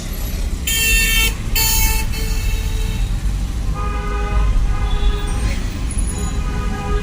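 A car speeds along a road overtaking other vehicles, its engine rumbling steadily while two loud horn blasts sound near the start and fainter honks follow later.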